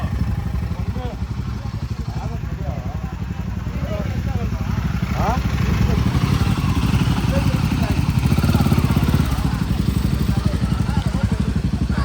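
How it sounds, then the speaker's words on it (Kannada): A motorcycle on a group bike ride to Honnavar for kayaking, heard from the pillion seat, gives a steady, loud engine drone with rushing wind, and people talk over it. "ನಾನು ದರ್ಶನ ಜೊತೆ ಪಿಲೋನಲ್ಲಿ ಕೂತ್ಕೊಂಡು ಈ ವಿಡಿಯೋ ಮಾಡ್ತಾಯಿದ್ದೀನಿ"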